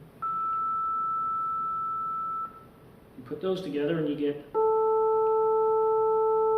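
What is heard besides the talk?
synthesized tone with added third harmonic, harmonica-like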